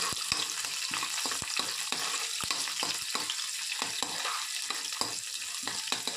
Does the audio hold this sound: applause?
no